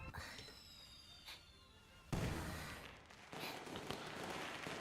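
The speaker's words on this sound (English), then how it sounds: "Okay, that's just fireworks, not an explosion." Fireworks in the video game Limbus Company burst with a sharp crack and then crackle and rumble on, fairly faint and shifting in density, over a quiet game soundscape.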